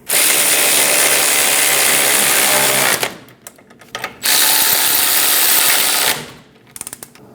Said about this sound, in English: Get the caliper bolt started. Snug the bolts down.